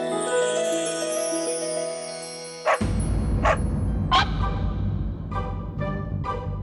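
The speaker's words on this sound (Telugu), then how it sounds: "ఈ కుక్క మా వీధిలోకి ఎలా వచ్చింది?" A stray dog in a residential street barking a few times in short, separated woofs, moderately loud over a dense noisy background in a TV drama scene.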